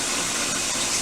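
Water runs steadily from a tap while the roots of mixed-texture hair are washed, a loud, even gushing rush that lasts about a second with no voices.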